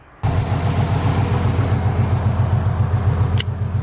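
A Subaru car engine idles steadily after a dead-battery start, a close, continuous low rumble with an even pulsing throb and a brief click near the end.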